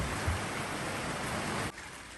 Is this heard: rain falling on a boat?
yes